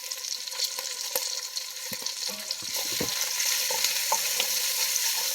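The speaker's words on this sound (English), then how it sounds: "So we got our onions cooking down." Onions cook down in a pan, crackling steadily up close with frequent stirring scrapes and clicks, the sizzle swelling a little louder partway through.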